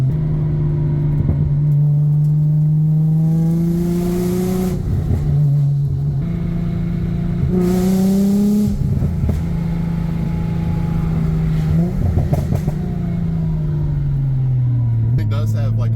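An Infiniti G35 coupe engine with rolling anti-lag drones and revs up and down in the cabin, the pitch rising and falling in waves, with occasional pops and people talking over it.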